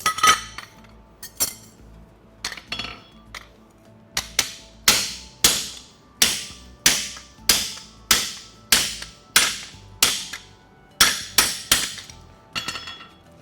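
A steel horseshoe is struck with a hammer on a cutting plate set on the anvil, a run of loud, ringing metallic clinks in irregular bursts that settles into a steady close rhythm, with no voices.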